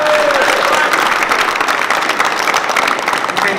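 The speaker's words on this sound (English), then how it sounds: "please give another round of applause for Mr." Sustained applause from an audience honoring Mr. Swanigan at a GOGI program gathering inside Pelican Bay prison, dense steady clapping filling the room throughout, with faint voices mixed in.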